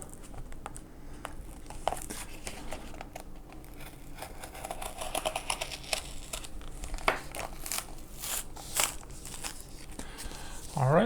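Blades cutting book pages away from the cover, a steady run of crinkly paper snipping and rustling, close and fairly quiet, with a louder tearing scrape near the end.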